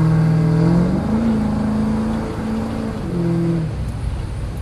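A custom 1965 Cadillac with a big roll bar accelerates hard into a corner, its engine loud and close, pitch climbing, dipping between shifts, then rising again as revs build.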